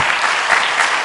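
A crowd at an inauguration ceremony for a city evangelization movement's headquarters director claps in a dense, unbroken burst, loud and full, for about a second.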